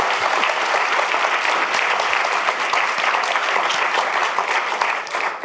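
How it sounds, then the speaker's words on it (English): Steady, dense audience applause fills an evening forum hall for two people on stage, sustained and even throughout with no break or speech. "Another round of applause for Joy and Jose"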